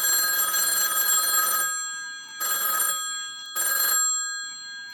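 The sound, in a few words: phone ringing with an incoming call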